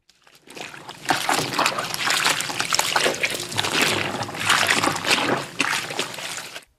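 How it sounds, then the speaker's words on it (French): River water flows and splashes steadily as clothes are washed in it, a continuous broadband wash with no speech. "Et laver les vêtements de ses frères et sœurs dans l'eau de la rivière."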